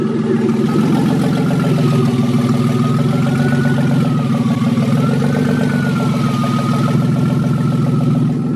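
A car engine runs steadily near idle just after its first start, a loud low drone with a thin whine wavering above it from the power steering, continuous and without voices.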